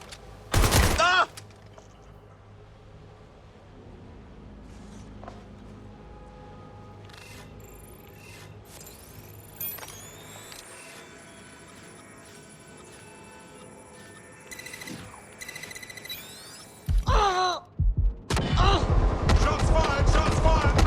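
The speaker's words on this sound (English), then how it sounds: "Shots fired. Shots fired." Gunfire in the video game Watch Dogs Legion on hard mode: a loud, rapid volley at the start, a quieter stretch with scattered shots and ambient noise, then several fierce automatic bursts near the end, with game voices in between.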